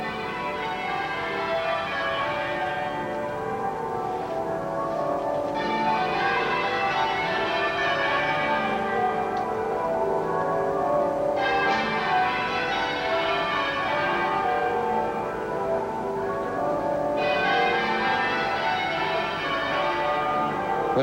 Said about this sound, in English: The bells and the organ play.